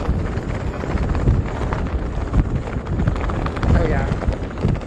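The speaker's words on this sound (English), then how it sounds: "it's a little windy" Gusty wind from Hurricane Idalia buffets the microphone with a steady low roar and rumbling surges, while people talk briefly underneath.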